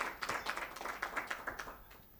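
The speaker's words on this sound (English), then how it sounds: "Round of applause, guys." A small conference audience claps to welcome a government youth official onto the stage, a quiet, steady patter of scattered hand claps lasting a couple of seconds with no talking.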